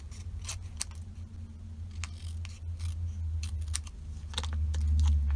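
Paper trimmed for a scrapbook piece, a series of quick crisp snips and clicks over a low steady hum, close and quiet.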